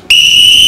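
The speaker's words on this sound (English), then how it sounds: "Should I demonstrate how loud it is?" An Acme Thunderer lifeguard whistle blasts loud and shrill, one sustained piercing tone held steadily from a sudden start, close and alone.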